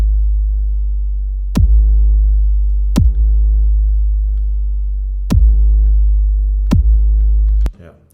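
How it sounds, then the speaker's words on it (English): A steady sustained sub bass drone runs under a punchy EDM kick drum that hits six times in an uneven pattern, both sounding together with no talk, before the sound cuts off near the end. "the sub and the punchy kick together will sound like this"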